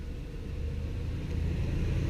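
A car drives along a road through burned neighborhoods in Orange and Anaheim Hills, heard as a steady low interior rumble that swells slightly toward the end, with no talk.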